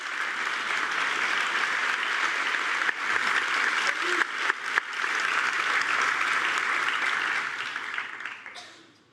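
Audience applause at a comic-book panel on Batman: broad, steady clapping from a crowd that holds for several seconds, then fades away at the end.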